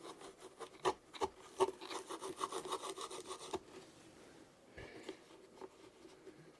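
A small ball link on the control linkage of an Xfly SU-57 twin 40mm EDF RC plane is scraped and filed clean, with quiet rhythmic rasping strokes close by, then softer rubbing.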